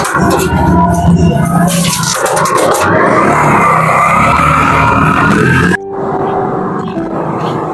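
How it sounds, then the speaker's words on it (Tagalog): A motorized tricycle passes close on a Philippine road, a loud, rough engine roar that swells and holds for several seconds before cutting off abruptly, leaving quieter traffic noise. "Oh, may tricycle na."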